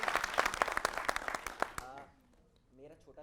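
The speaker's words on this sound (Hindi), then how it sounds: "जोरदार तालियां ऐसी शहरीन चीजें के लिए" Loud, dense applause from a studio audience at a discussion show, sharp claps packed together for nearly two seconds before cutting off, leaving only faint voices behind.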